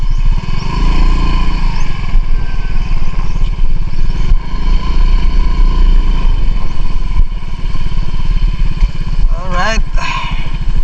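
A motorcycle engine runs steadily and loudly close by while being parked, with a low, even throb throughout and a brief voice near the end.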